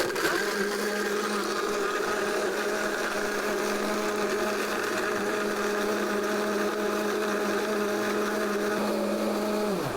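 A blender crushing ice whirs loudly and continuously at a steady pitch, its motor drone smooth with no ice clunking, cutting off near the end.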